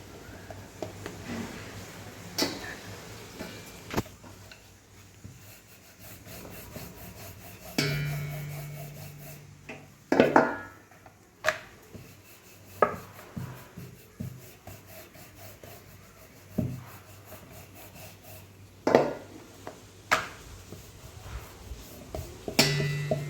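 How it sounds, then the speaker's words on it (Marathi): Chapati dough is rolled out with a rolling pin, giving soft repeated rubbing and rolling strokes with occasional sharper knocks of the pin, fairly close and quiet, in an irregular rhythm. "तशा प्रकारेच ही पण चपाती लाटायची"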